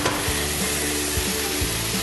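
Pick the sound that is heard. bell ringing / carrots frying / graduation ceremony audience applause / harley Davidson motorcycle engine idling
carrots frying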